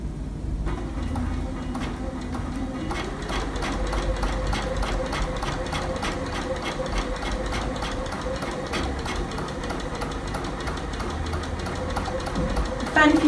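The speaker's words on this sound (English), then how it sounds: "it's just a case of stitching down and couching down your bunting shape" A sewing machine doing quilting ruler work, stitching and couching down a bunting shape. It runs with a steady, rapid mechanical chatter at close range and keeps an even rhythm throughout.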